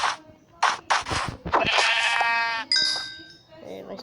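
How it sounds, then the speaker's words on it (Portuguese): Sheep in the game Survivalcraft bleat several times in short rising calls, fairly close, between soft thumps and a chime, with a person talking briefly. "tem muita ovelha aqui, dei sorte"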